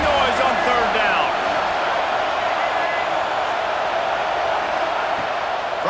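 Steady roar of a stadium crowd in College Football 26, loud and sustained throughout as a commentator talks over the noise.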